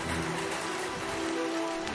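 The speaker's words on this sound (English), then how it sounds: "Here comes the hail!" A dense, steady roar of hail pelting a hard surface nearby during a storm in Tornado Alley, continuous with no pauses.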